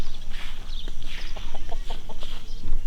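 Chickens on a homestead cluck in a steady run of short, repeated calls, fairly close and continuous over a busy outdoor background, with no talking.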